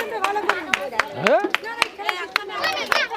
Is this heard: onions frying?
no